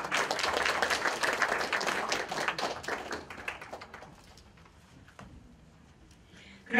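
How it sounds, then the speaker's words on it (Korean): Audience at a May 18 Gwangju Democratic Uprising memorial ceremony gives a round of applause for honorees, lively at first, then thinning into scattered claps and fading out. "여러분 수고하신 분께 다시 한번 박수 좀 부탁드릴게요"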